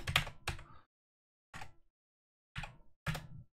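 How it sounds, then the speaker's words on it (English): A computer keyboard is typed on in a few short separated bursts of clicky keystrokes, close and fairly loud, with silent gaps between them and no talk. "so you're going to just go ahead and type in 0."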